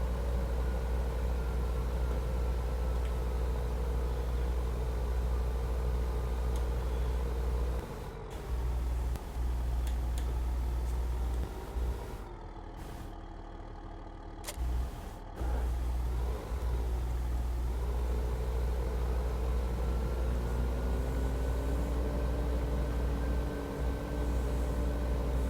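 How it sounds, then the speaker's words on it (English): A tractor engine in Farming Simulator 15 drones loudly with deep steady rumble and a rising, shifting whine as revs change, briefly cutting out in places before resuming. "This tractor actually sounds really cool."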